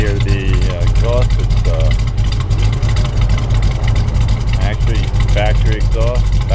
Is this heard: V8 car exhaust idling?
yes